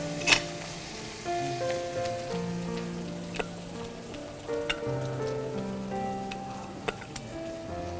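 Pork pieces fry in a pan with a soft crackling sizzle. The sizzle stays steady and fairly quiet under background music, with a few sharper pops along the way.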